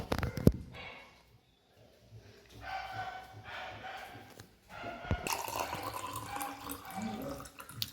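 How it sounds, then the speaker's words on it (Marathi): Hot water pours into a glass in two stretches of close, splashy trickling, with a quiet pause between them and a sharp clink near the start. "पहिले एक ग्लास पाणी आणू."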